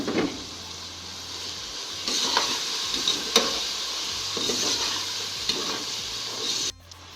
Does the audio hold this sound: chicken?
yes